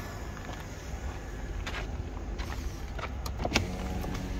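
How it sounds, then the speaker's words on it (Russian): Power windows on a Mercedes-Benz S-Class with a 5.5-litre engine whir up and down as a low motor drone inside the car, with faint clicks and knocks near the end, close by and fairly quiet. "Стеклоподъемники рабочие."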